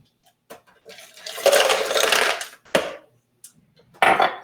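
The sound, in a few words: ice cubes poured into a blender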